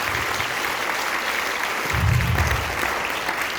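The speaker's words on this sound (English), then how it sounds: "So how about a big round of applause?" Audience applause at a high school end-of-year concert, a steady wash of clapping that swells slightly midway and continues throughout the clip.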